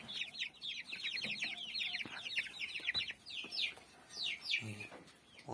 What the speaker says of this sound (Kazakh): Тек мына үлкен балапандар.